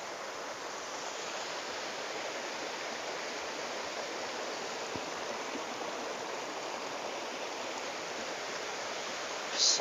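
A waterfall pours in a steady, dense broadband roar, close and continuous with no pauses, heard from amid the falling water.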